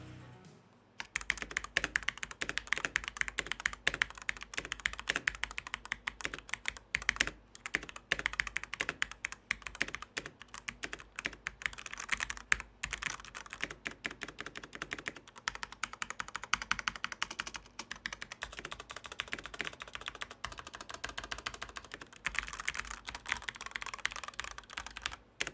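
Fast, steady typing on an MSI GT83 Titan gaming laptop keyboard with low-actuation silver switches, a dense run of light, quiet key clicks and taps close up, with no talk.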